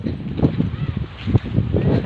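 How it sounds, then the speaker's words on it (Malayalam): Gusty wind buffets the microphone in rumbling low bursts, loud and close, with uneven surges throughout, beside a fish farm on a walk from Kasaragod to Kanyakumari. "കാര്യമായ കാറ്റ്"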